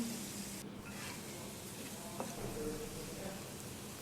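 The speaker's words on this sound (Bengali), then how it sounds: "আলুগুলোকে আমি খুব লালচে কালার করে ভেজে নিচ্ছি" Strips of potato coated in turmeric and salt frying in hot oil, a steady low sizzle with faint crackles and a brief clink, continuous and fairly quiet throughout.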